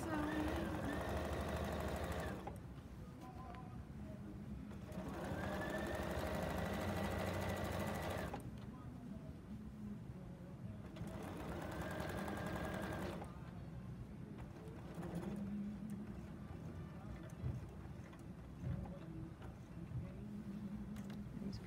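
A serger sews binding onto a quilt in repeated runs, a steady close mechanical hum broken by short pauses where the work is pivoted, with a faint voice in the background.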